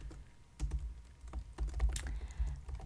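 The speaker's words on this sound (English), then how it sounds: "I hope that you liked the typing" Computer keyboard typing during a beginner coding tutorial on variables and for loops, heard as close, uneven bursts of clicking keystrokes with brief pauses and no talking.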